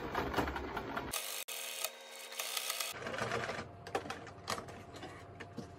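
A sewing machine runs a straight seam with the needle down, rapid mechanical stitching in bursts with a short pause and a click, close up and fairly quiet.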